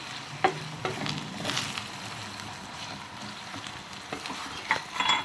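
Onions, carrots and potatoes being sautéed in a pan with salt, giving a steady close sizzle with scattered stirring scrapes and a few sharper clinks, no talking.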